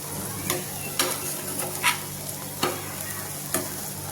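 Masala pav toasting in a hot pan with a steady sizzle, broken by several sharp spatula taps and scrapes at irregular intervals, with no talking.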